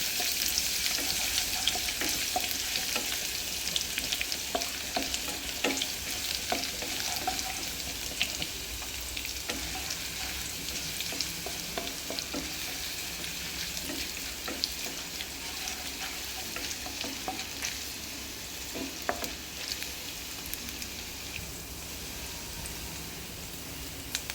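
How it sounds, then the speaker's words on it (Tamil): Ginger and dried red chillies fry in oil for a Madras-style chicken curry, a steady crackling sizzle close by for a long stretch, broken by repeated spatula stirs and scrapes, with no speech. "போட்டு இஞ்சி நல்லா கோல்டன் ப்ரௌன் வர வரைக்கும் நல்லா கிண்டிங்க"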